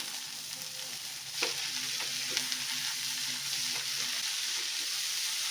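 Horse gram rasam with coriander and grated coconut being stirred in a pot: a soft continuous sizzle with a few spoon knocks and scrapes against the vessel, close by and fairly quiet.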